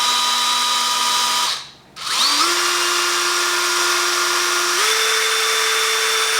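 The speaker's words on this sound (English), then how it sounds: "I'm going to drill straight through." A power drill whines steadily as it bores a hole straight through the rail of a Pella between-the-glass mini blind. The motor briefly stops, then restarts and climbs in pitch as it keeps drilling, loud and close.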